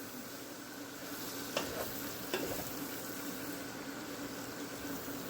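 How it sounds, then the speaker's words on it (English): Hoppin John ingredients sizzle and simmer in a pan, a constant low frying hiss with two sharp scraping clicks of a utensil stirring through the mixture. "Go ahead and stir that around for a bit. You want to get these in there and simmer for about a minute or so"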